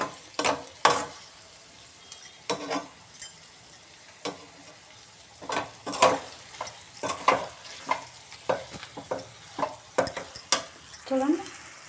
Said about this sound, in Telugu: చికెన్ ఫ్రై ఇలా వేగిపోవాలండి.